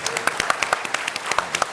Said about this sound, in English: please join me in giving our panel a great hand of applause